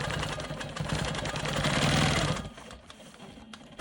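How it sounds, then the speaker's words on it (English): A Quilt Maker Pro 20 quilting machine stitches in the ditch on a quilt block, its fast, even mechanical whir running loud and close for about two seconds before cutting off to near quiet. "I'm going to go ahead and stitch in the ditch on this block"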